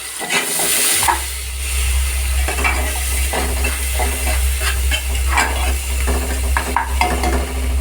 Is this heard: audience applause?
no